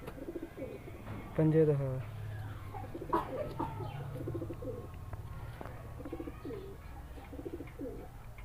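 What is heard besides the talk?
pigeons cooing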